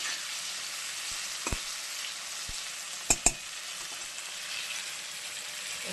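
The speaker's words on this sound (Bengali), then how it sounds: "তেলের মধ্যে টমেটোটাকে ভালো করে ভাজবো।" Tomato with a pinch of salt frying in hot oil for a tangra fish curry, a steady bright sizzle with a few low taps and two sharp clicks partway through, no voices.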